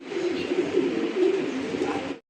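Pigeons coo close by in a soft, throaty, continuous rolling murmur that carries on until it cuts off abruptly near the end.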